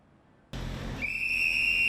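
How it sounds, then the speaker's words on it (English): A school crossing volunteer's whistle blasts loud and shrill after a sudden burst of street noise, holding one sustained piercing tone at a road crossing in Taiwan. "Once the whistles blow and the flags are raised, traffic halts."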